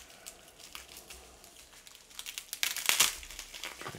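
Tape being peeled off a plastic comic book mailer bag during an unboxing, with soft crinkling that builds into a louder, sharper ripping crackle near the end, close up and with no talking.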